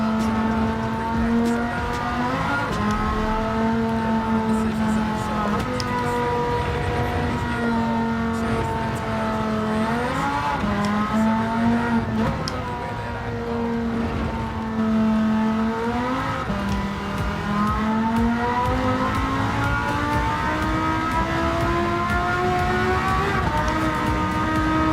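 A race car engine in Gran Turismo 7 drones steadily for the whole stretch, its pitch rising through the gears and dipping at each shift with occasional lifts and re-accelerations, loud and close with no talking.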